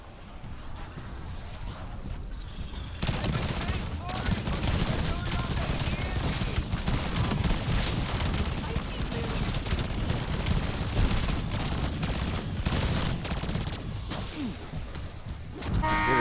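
Light machine gun fire from the Call of Duty BO7 Zombies video game, sustained dense bursts of automatic shots continuing almost without pause, loud and close, with speech in places.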